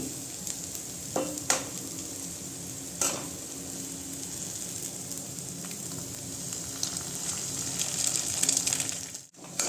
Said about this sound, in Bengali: এই যে পেঁয়াজটা এখানে ভাজা হয়ে গেছে একটু। এবারে এর মধ্যে দিয়ে দেবো ডিম।